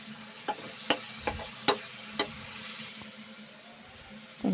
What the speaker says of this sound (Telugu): బాగా వేగుతున్నాయి చూడండి